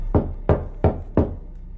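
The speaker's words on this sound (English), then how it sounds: "This is where the scene comes from in the movie, where they knock on the door" Four firm knocks on a door in a horror movie scene, evenly spaced and close, each a sharp thud with a short decay, with no other sound between them.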